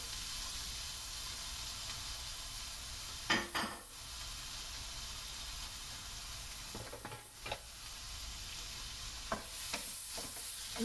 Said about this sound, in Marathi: एक हिरवी मिरची टाकत आहे आणि इथे कांदा घेतलेला आहे एक मोठा कांदा घेतलेला आहे तो कांदा मी टाकत आहे